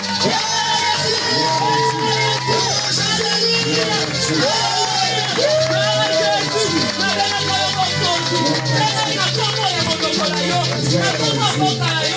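A church congregation at a Sunday service cheering and acclaiming for Jesus, sustained crowd shouts and whoops over continuous music, loud and close.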